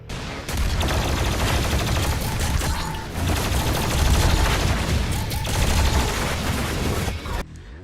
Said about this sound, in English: the sound when a cyber demon, aka Tyrant, is in the vicinity and attacking you